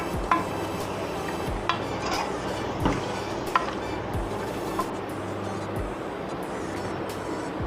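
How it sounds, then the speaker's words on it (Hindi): Ginger garlic paste and chicken frying in a pan, with a steady low sizzle broken by repeated clanks of a spoon stirring against the metal at irregular intervals. "इसको मैं कम से कम 5 मिनट तक भूनूंगी"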